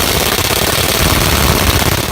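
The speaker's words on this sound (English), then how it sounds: "so now we're just going to tighten the bolts on the track bar" Bolts on the track bar of a Jeep Wrangler TJ are tightened during a suspension lift install, producing a loud, continuous rattling buzz like an impact wrench, close by and steady for about two seconds with no talk.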